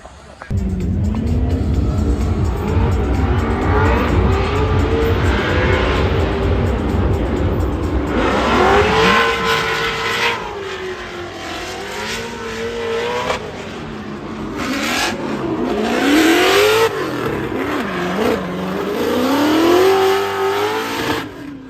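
A drift car at Formula Drift Atlanta revs hard through practice laps, a loud, continuous engine roar that rises and falls with sweeping pitch changes as the throttle opens and closes.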